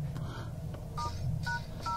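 Telephone keypad tones on a Newman K2s phone with an MT6592 chip, dialing *#06#: a short run of distinct, clear beeps, each key press separate, loud and close with no talk over them.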